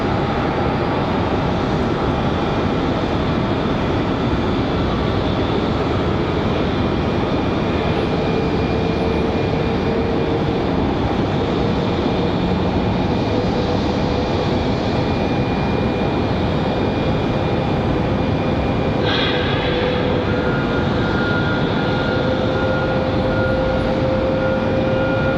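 A jet airliner at Raleigh-Durham International Airport rumbles as a steady, broad roar that holds for the whole stretch, loud and continuous with a faint whine riding on top, no voices heard.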